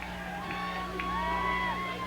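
High school football game crowd cheering at a 1997 Nettleton Raiders vs Huntsville Eagles night game, a steady loud wash of voices with whoops and shouts rising through it, plus a constant low hum underneath.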